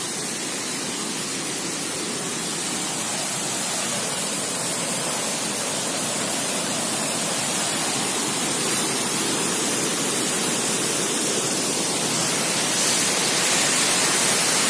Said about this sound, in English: It's a very, very beautiful waterfall.